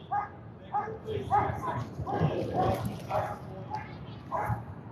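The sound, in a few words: police dogs barking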